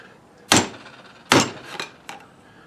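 Three sharp metallic whacks from a pry bar used as a hammer, the last one lighter, struck at an uneven pace, close by with a brief ring after each hit.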